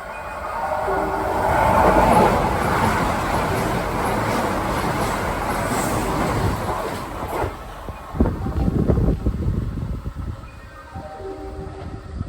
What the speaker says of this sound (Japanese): まもなく1番線を電車が通過いたします。